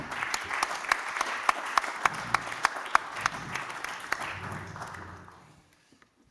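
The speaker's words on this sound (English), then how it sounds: "We would then move to the next step, but not before we give you an applause." Audience applause at a summit session on forest-based value chains: steady clapping with a few sharp individual claps standing out, fading away toward the end.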